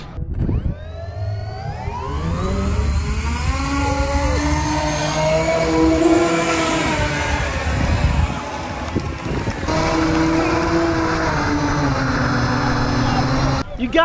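A model airplane fitted with extra wings flies at half throttle, its electric motor giving a loud, steady whine that rises and shifts in pitch, while people talk over it.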